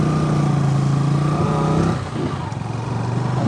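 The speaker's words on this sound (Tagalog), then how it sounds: "maraming mga motor na dumadaan dito" Motorcycles pass along a road, a steady loud engine drone that drops off partway through and continues at a lower level, with no speech.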